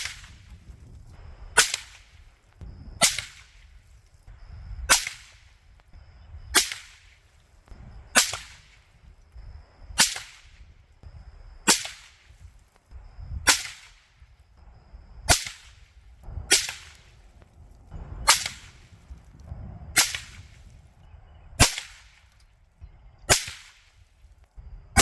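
A .22 ARC rifle with an 18-inch Ballistic Advantage barrel fires handloaded rounds at targets, sixteen sharp, loud cracks spaced steadily about every second and a half, each followed by a short fading echo.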